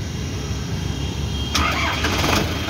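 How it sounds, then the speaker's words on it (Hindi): An ACE DI 6565 four-cylinder 60 HP tractor is cranked by its self-starter over steady background noise, catching midway and settling into a close, even diesel idle. "एक बारी सेल्फ मार के दिखा दो कैसी आवाज़ है"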